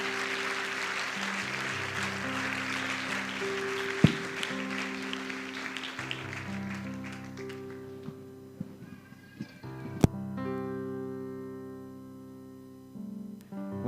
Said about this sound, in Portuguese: Você pode aplaudir o Senhor Jesus, pode aplaudir Jesus